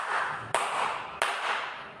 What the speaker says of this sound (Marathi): तर साधी टाळी वाजवून बघूया